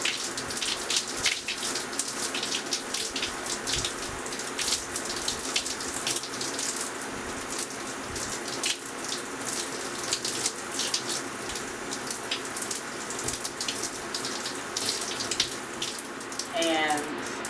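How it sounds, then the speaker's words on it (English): Running water from a tap splashes steadily onto hair being rinsed out during a wash day, a continuous close hiss and patter with small shifting splashes throughout. "And while I'm rinsing, I am going to detangle it."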